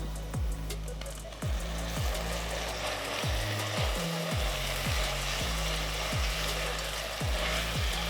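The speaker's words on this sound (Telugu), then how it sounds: "ఇప్పుడు నేను టొమాటోలు వేసేస్తున్నాను" Tomato slices dropped into golden-brown onions frying in a pan for raw jackfruit dum biryani give a steady, close sizzle, with a low rhythmic thumping repeating about every second underneath.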